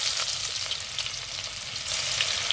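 Chopped garlic and cumin seeds fry in a ladleful of hot oil for a village-style ambadi leaf dish, giving a steady, close, bright sizzle that holds evenly throughout with no talking.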